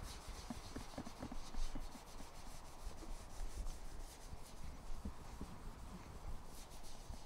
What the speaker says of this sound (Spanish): Entonces le tallamos y algo del óxido se va a ir borrando.